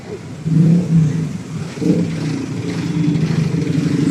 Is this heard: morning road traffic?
yes